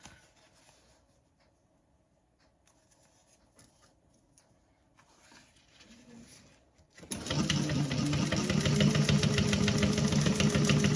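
Sewing machine stitching a gusset lining seam on a bag: quiet handling and faint rustling at first, then the motor kicks in with a loud, fast, steady whirring run up close.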